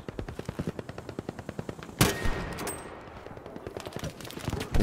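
Rapid automatic gunfire in Battlefield 5, a steady rhythmic burst of evenly spaced shots, then a loud crack and heavier rumbling blasts, fairly close with no talk.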